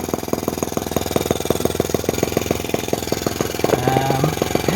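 A Microcosm T26 working model tractor with a 1.9cc gasoline engine runs in gear, making a rapid, loud buzzing putter of evenly spaced firing pulses, with a brief higher tone late on.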